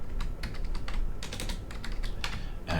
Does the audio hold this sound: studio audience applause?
no